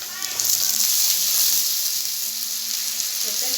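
Cauliflower sautéing in butter gives off a steady, close sizzling hiss that lasts the whole stretch, with faint stirring beneath it.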